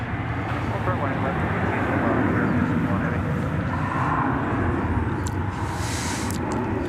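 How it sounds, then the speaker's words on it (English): A Boeing 777-300ER jet airliner, ten years old, arrives at DFW Airport after a flight from London. Its engines give a broad, steady roar that stays constant and fairly loud, with a voice talking over it. "ending a 9-hour and 9-minute flight from London on that 777-300ER"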